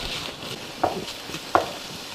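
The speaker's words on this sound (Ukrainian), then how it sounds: "починає шкваркотіти наш бочок шпондер" Pork belly sizzles softly as it fries in a pot with onion and carrot, a steady hiss with a couple of brief stirring scrapes.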